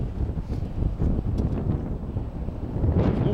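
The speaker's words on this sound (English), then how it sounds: "Wind dies down a little bit." Strong wind buffeting the microphone at Crown Point in the Columbia River Gorge, a loud, rumbling, gusty roar that persists throughout.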